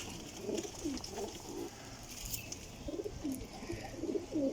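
Pigeons, flying breeds kept by a fancier, give soft repeated coos in short rolling phrases, several calls spaced through a quiet background.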